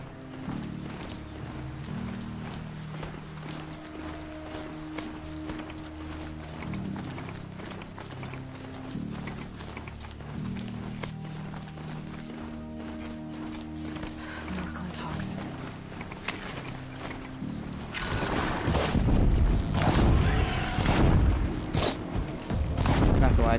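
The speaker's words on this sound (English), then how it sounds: "Damn, bro, water horse. Legitimately water horse." A mechanical water horse machine creature in Horizon Zero Dawn clanks and clops with whirring, gear-like mechanisms, building to loud, crashing impacts near the end, while a person talks throughout.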